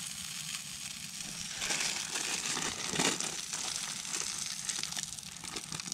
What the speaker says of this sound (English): Popcorn and bacon.